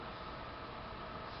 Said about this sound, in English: the fan we are using is our FDB fan at